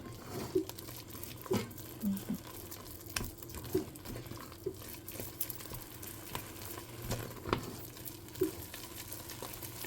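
Flour is stirred into a hot cooking mixture for eclair choux dough, giving soft, faint scraping and sticky clicking sounds at an irregular pace with a low bubbling simmer beneath.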